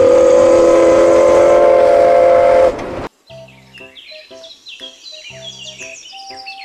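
A toy Thomas train lets out a steady, loud whistle for nearly three seconds, then falls silent before short electronic beeps and chirpy toy tones play in a rhythmic pattern.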